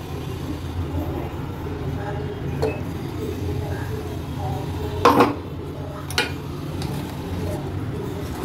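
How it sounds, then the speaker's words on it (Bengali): A spoon clinks against a bowl while stirring cornflour and ground sugar into cold milk, with a few sharp taps over a steady background hum. "ঠান্ডা দুধের মধ্যে আমি কর্নফ্লাওয়ারটা মিশিয়ে নিচ্ছি, আর মিশিয়ে নেবো বেটে রাখা পুরো চিনিটা।"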